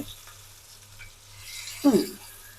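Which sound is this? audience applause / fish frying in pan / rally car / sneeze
fish frying in pan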